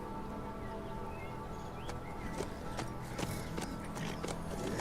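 Horse hooves clip-clop at a steady walking rhythm in the video game HumanitZ, moderately close over a low ambient background bed, with no talking.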